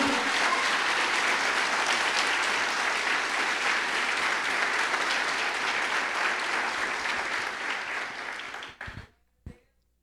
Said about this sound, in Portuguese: Dê um aplauso a ele essa manhã